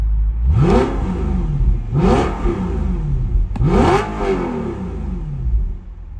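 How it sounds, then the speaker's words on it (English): A car engine revs hard three times in a row, each climbing whine rising then falling back to idle, heard loud and close from inside the car with windows slightly open, no talk. "that's a really beautiful sounding car"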